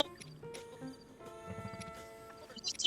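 Horse in Zelda: Tears of the Kingdom, with a short run of clip-clopping hooves mid-clip and a brief neigh among game music and chimes, fairly quiet, with some voice nearby.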